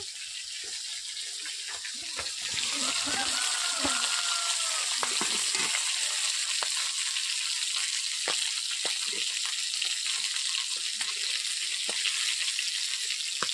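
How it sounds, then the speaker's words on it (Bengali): Pangas fish fries in oil in a kadai with a loud, steady sizzle throughout, broken by occasional clinks and the scrape of turning the pieces. "বন্ধুরা দেখতেই পাচ্ছেন পাঙ্গাস মাছ আমি ভাজছি।"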